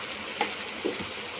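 Boiled kabuli chickpeas tipped into a hot pan for chole, giving a steady close sizzle with a couple of brief stirring clinks, no talking.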